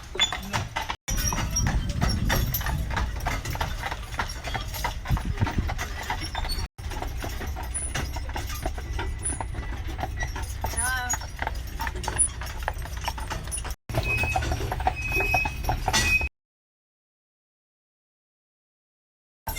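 Horse-drawn tour carriages clip-clop past with a steady, continuous patter of hooves, fairly close and loud, with voices faintly in the background before the sound cuts off near the end.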